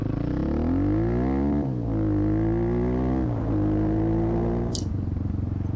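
Motorcycle engine fitted with a throttle tamer revved at wide open throttle, a loud close drone whose pitch climbs, dips and climbs again in repeated sweeps, ending with a brief high squeal.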